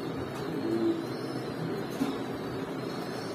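Andalusian racer pigeons cooing softly at a breeder's loft, low murmuring coos under a steady background hum, with one brief louder note near the middle.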